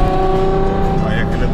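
A Ferrari speeds along at high velocity, its engine a loud, steady, droning roar with rising tonal whine and heavy road rumble heard from inside the car, with someone talking over it.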